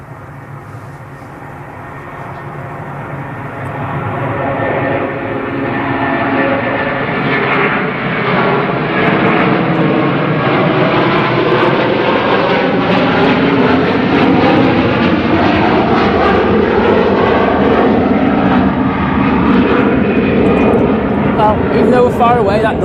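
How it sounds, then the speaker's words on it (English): Airbus A380 airliner taking off at Manchester Airport, a huge sustained roaring engine rumble that swells and holds loud for over twenty seconds, with people talking over it. "I've got that A380 on the roll"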